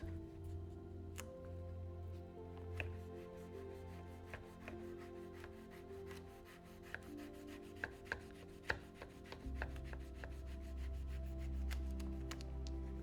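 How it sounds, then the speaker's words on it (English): A knife slicing grape tomatoes in half on a cutting board, giving scattered sharp taps and chops at an uneven pace over a steady low background hum, with a deeper rumble joining near the end. "This is how to cut your grape tomatoes in half"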